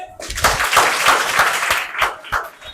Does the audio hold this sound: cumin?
no